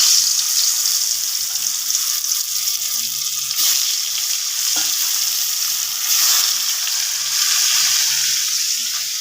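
Fish rubbed with salt and turmeric frying in a pan, a loud, close, continuous hiss of hot oil that swells and fades as it spits, with no voices.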